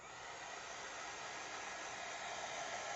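Steady, continuous blowing whoosh of a heat gun drying adhesive on craft card, held close and even throughout with no pauses or voices.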